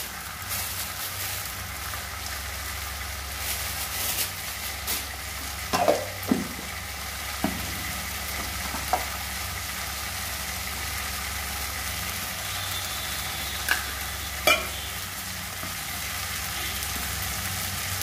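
Tomato, potato and ground poppy seed paste frying in a pan, a steady close sizzle throughout with a few sharp spoon taps and stirring clinks, no talk.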